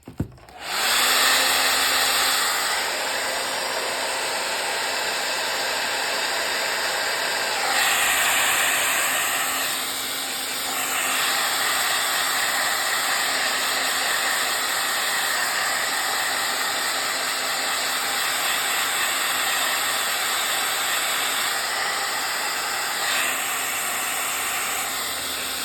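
A hair dryer blows steadily on fresh paint, a loud continuous whirring hiss that runs almost the whole time, dipping in pitch briefly a few times as it is moved, with no talking.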